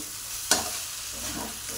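Cabbage with garam masala being stirred and fried in a pan, giving a continuous close sizzle with one sharp utensil click and soft scraping, with no talk.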